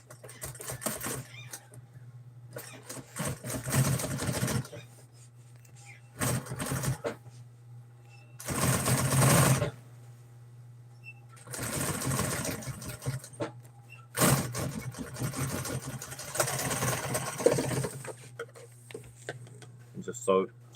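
A sewing machine stitches in repeated bursts of a few seconds each, separated by short pauses, over a steady low hum, with a voice speaking at times.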